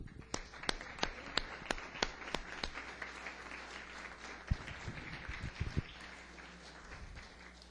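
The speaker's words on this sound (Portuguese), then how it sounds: "Vamos dar uma salva de palmas ao Senhor." A church congregation applauding, with a handful of sharp, rhythmic claps at first, then looser, scattered clapping that fades away, heard at a distance in a reverberant hall.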